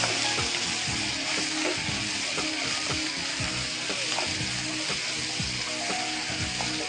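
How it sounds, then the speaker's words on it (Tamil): Chicken pieces cut small for pepper fry sauté in a hot pan, giving a steady, loud sizzle with a few scraping stirs throughout and no talk. "இப்படி வதங்கும் போதே அது பாதி வெந்துடும் சிக்கனு"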